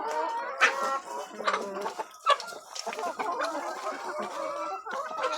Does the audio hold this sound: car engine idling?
no